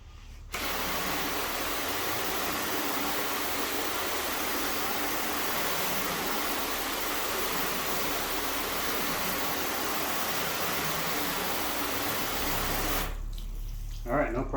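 Water sprays steadily onto a car panel for a car wash check of a Rain-X graphene spray wax finish, a continuous loud hiss that starts abruptly and stops near the end, with no voices.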